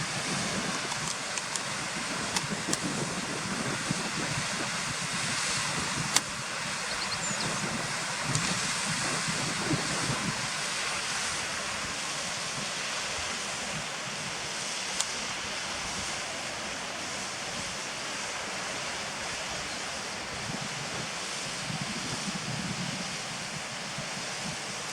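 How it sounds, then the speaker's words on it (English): A waterfall below a footpath near the Crackpot Hall ruins sounds as a steady, broad, unbroken rush of falling water, like constant surf, running the whole time with a faint breeze and no voices. "And there's a nice waterfall below."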